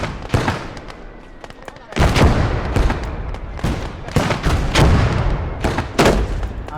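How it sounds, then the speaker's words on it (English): Artillery fire in the World War II strategy game Blood Red Snow, a run of sharp, loud booms and cracks at irregular intervals, some close and heavy, with rumbling in between. "Artillery's doing a great job."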